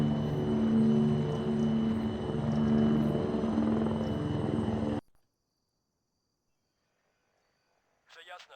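Helicopter rotors thump and drone loudly in Arma 3 as helicopters arrive, a steady heavy whir for about five seconds that cuts off abruptly, followed by silence and a brief faint sound near the end.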